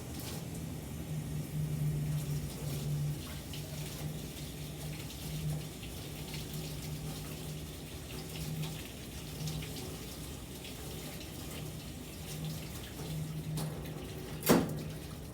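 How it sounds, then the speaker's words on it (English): Tap water runs steadily over a knife being washed at a kitchen sink, a soft continuous splashing flow with a single sharp clink of metal near the end. "preheat my pan while I wash my knife right now"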